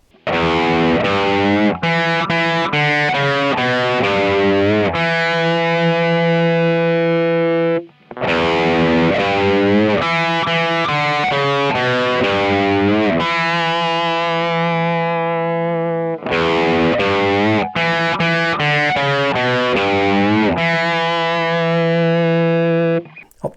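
Distorted electric guitar plays the rhythm riff of a song up to speed, loud and close: fast chugging palm-muted picking broken by sustained ringing power chords, repeated in three passes with short gaps.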